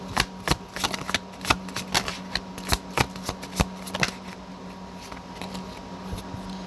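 Tarot cards are shuffled close by in a quick, uneven run of crisp riffling snaps that thin into softer rustling toward the end.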